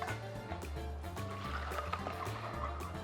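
Water from soaked chickpeas drains off through a strainer, a soft continuous trickle and splash running close by at low level over a quiet kitchen backdrop.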